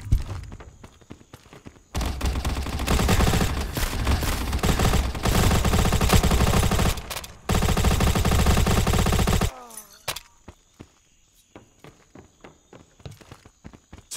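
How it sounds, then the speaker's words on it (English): Sustained automatic gunfire in the shooter game Modern Ops, loud rapid bursts broken by short gaps, then quieter scattered clicks and shots as a toxic grenade goes out. "Throwing toxic grenade!"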